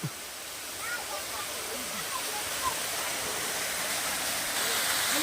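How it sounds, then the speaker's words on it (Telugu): A waterfall near a Shiva temple in Tirupati roars as a broad, steady rushing wash of falling water that holds even and close throughout, with faint voices underneath. "ఇక్కడ వాటర్ ఫాల్ చూడండి ఎంత బాగా కనబడుతుందో"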